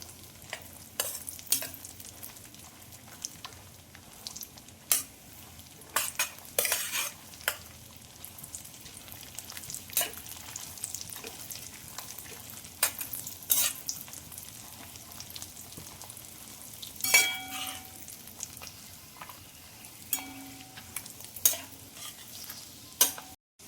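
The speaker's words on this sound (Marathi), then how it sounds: "आता काजू बदामीचे काप छान भाजून झाले आहेत" Cashew and almond slices roast in a dry pan for sheera, with a soft, continuous crackle under repeated sharp scraping clicks of the stirring utensil throughout, and no voices.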